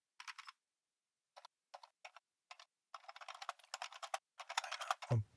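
Typing on a computer keyboard while editing text in web design software: bursts of quick, light key clicks in short clusters, growing denser toward the end, close and clear with no talking.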